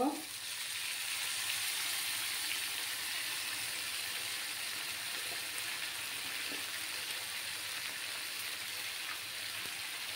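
Soybean curry sizzles and fries steadily in a pan after a little water is added, a dense continuous hiss holding at an even level throughout with no talking.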